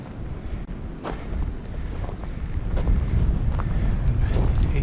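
Strong wind roars along an Appalachian forest road, a continuous low rumble with gusts that swell louder toward the end, buffeting the microphone.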